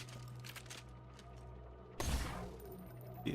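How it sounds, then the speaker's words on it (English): A rapid-fire gun in the video game Borderlands lets off a burst of shots in very quick succession, a loud, sudden blast about two seconds in after quieter game ambience. "That's actually firing 9 shots just in incredibly rapid succession."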